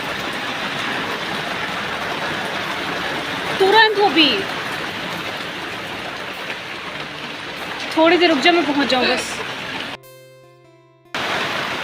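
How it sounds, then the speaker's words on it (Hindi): Heavy rain suddenly pouring down outside a home in the morning, a steady dense hiss throughout, with someone talking over it twice and a brief drop near the end. "अचानक से इतनी तेज बारिश स्टार्ट हो गई।"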